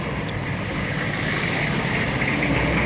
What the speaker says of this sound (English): Diesel coming.